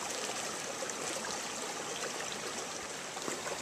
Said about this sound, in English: Along the little waterfall there.